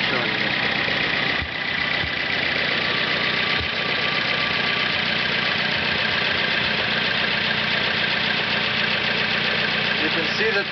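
Engine idling steadily on vaporized fuel with its carburetor float bowl run empty, a continuous even running drone throughout with no pauses.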